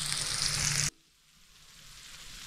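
Frozen prawns fry in a hot pan with a loud, dense sizzle. It cuts off abruptly after about a second and leaves quiet background hiss.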